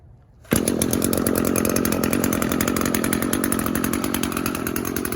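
An Echo SRM 210 string trimmer with its idle turned down fires on one pull after a brief quiet moment, then runs at a loud, steady, buzzing two-stroke idle close by.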